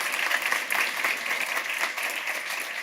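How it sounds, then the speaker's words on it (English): A conference audience gives a steady round of applause after a speaker at a forum on the wellbeing economy; dense, even clapping fills the short stretch without pause. "Let's give a round of applause."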